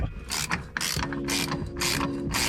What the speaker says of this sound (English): now that that's lined up correctly now, we can back this bolt out